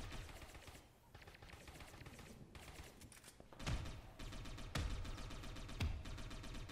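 Bursts of automatic gunfire in the video game Satellite Reign, rapid rattling volleys with heavier thumping shots punctuating them, loud and continuous over several seconds.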